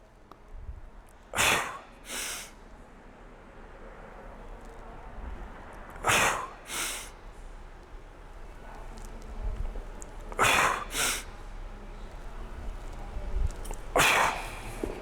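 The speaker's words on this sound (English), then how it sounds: "I want you guys to notice my breathing patterns here." A coach in a CrossFit core seminar breathes in a braced pattern while standing up with weight, giving four sets of sharp, close, forceful exhales and snorts spaced through a quiet room.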